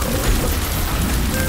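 Explosion in the video game The Binding of Isaac: a short, loud, dense boom with heavy low rumble that fills the brief moment on its own.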